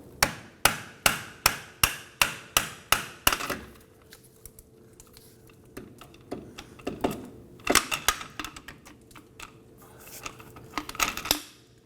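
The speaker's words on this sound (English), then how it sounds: "I'm going to go ahead and use my hammer, and I'm going to knock the shock free" A steady run of about ten sharp metallic hammer strikes, evenly spaced, followed by scattered irregular knocks and clanks at a closer, quieter level, as a hammer knocks a rear shock absorber free from the lower control arm of a Volvo XC90.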